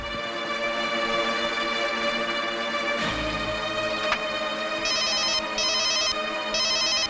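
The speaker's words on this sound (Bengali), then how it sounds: "কে আবার ফোন করলো?" A telephone rings in a Bengali film scene, its electronic trill sounding in repeated bursts over a steady background hum.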